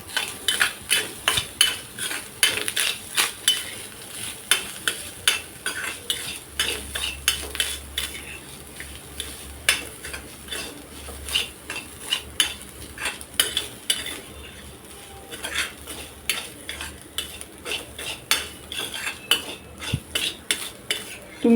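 Grated fresh coconut is dry-roasted in a couple of spoons of oil in a kadhai, a spoon scraping and clinking against the metal in steady strokes over a faint sizzle, close and fairly loud.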